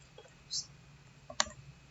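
A few sharp, distinct clicks from a computer keyboard, one at the start and a stronger one near the end, ring out in a quiet room, with brief soft voice sounds mixed in.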